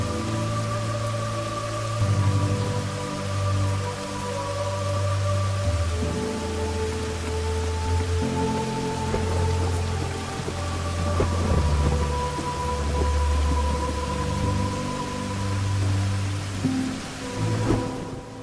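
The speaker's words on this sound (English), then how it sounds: "you need to survive against an everlasting rain and the fury of the storm" Steady heavy rain pours down with repeated rolling thunder rumbles throughout a roguelite city builder game set in an everlasting storm, loud and continuous with no voices.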